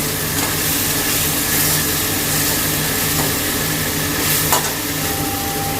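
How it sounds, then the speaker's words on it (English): Ginger garlic onion paste for egg curry fries in a pan with a steady, loud sizzle, and a few faint stirring scrapes sound over the constant hiss. "Fry the ginger garlic onion paste very well."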